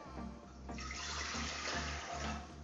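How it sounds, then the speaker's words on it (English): Water pours from a container into a Hawkins pressure cooker pot on a stovetop, a steady close splashing rush that swells and shifts in pitch as the pot fills. "So we'll move the pot onto our stovetop and add 2 cups of water to it."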